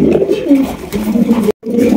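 Pigeons on a farm coo in low, rolling throaty phrases, close and loud, repeating over a couple of seconds with a brief silent break near the end and no talk.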